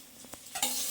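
Mutton curry is stirred in a hot pan, a close, brief scrape and sizzle that swells to a steady frying hiss.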